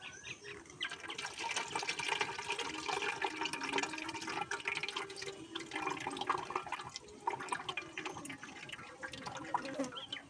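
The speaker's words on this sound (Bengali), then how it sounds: "এদিকে আমি ডালটা ধুয়ে নিচ্ছি ভালো করে" Dal lentils being washed by hand in water, with continuous sloshing, swishing and dripping close by throughout, no talking.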